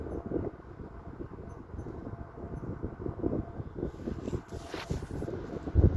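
A vintage Galaxy 12-inch table fan runs with a soft, steady airy whoosh, faint and close, with light fluttering pulses in the airflow.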